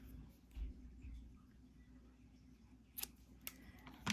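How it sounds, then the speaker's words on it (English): Scissors give a couple of crisp snips through butcher's twine at a crafting table, quiet and close, with short sharp clicks near the end and no talk. "snip it in two"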